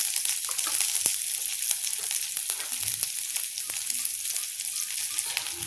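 Onion frying in oil in a kadhai, a steady bright sizzle with occasional sharp crackles and stirring clicks, close and continuous without talk.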